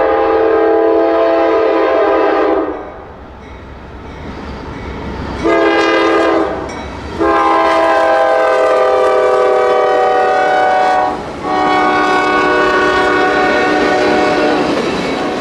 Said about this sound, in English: 373, daily mixed freight out of Brosnan Yard in Macon, Georgia, to DeButch Yard in Chattanooga